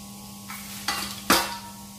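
Cumin seeds hit hot oil for a restaurant-style kaju butter masala, giving a couple of quick, soft sizzling bursts over a low background hum, close but fairly faint.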